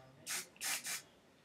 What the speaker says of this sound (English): So let's spray this.